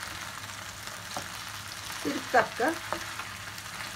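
Butter and small chopped green peppers frying with meat in a pan for hünkar beğendi, a faint soft sizzle with a few brief stirring scrapes near the end.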